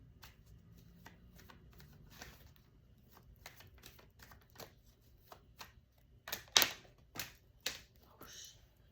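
Tarot cards are shuffled by hand as a soft, faint flurry of riffles and snaps, with a few sharper slaps toward the end, in a quiet room.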